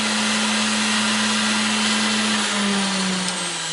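A grinder running steadily on heavy scrap brass, a loud, continuous whining drone with a hum that drops slightly in pitch near the end as the motor loads.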